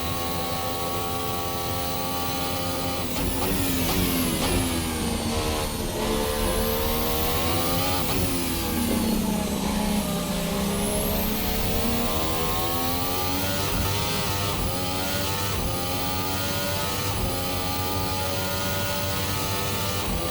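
A high-revving 2017 Formula Hybrid race car engine in a racing simulator game screams continuously, pitch climbing and dropping through gear changes and corners, loud with no talking.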